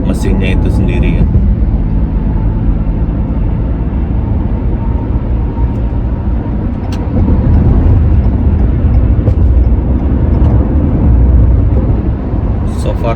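Cabin of a 2021 Toyota Highlander XLE AWD cruising at about 100 km/h, with a steady broadband road and engine rumble throughout while a person talks over it.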